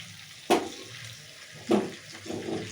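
Water splashes in two quick pours into a pan of chicken cooking on a stove, then settles into a soft sizzle and trickle, close and fairly quiet.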